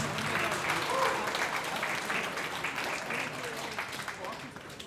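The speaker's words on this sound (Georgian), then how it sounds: "Აპლოდისმენტები შევხვდეთ ამ კლუბს." Sustained audience applause greeting a grappling club at the Gymnasia Grappling Invitational tournament: dense, steady clapping from a large crowd that holds at an even level throughout, easing slightly at the end.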